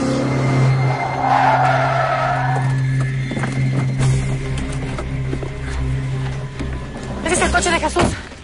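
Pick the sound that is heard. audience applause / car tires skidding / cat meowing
car tires skidding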